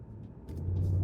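A 2025 Range Rover Sport SV Edition 2 engine hums low and steady, building slightly as it accelerates hard, with a muted, subdued exhaust note from closed exhaust valves.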